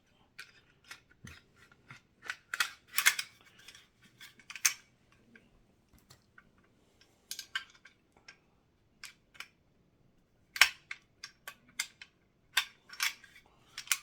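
Handgun function check: a series of sharp, close mechanical clicks and clacks from slide racking and trigger pulls, spaced irregularly with quiet gaps between.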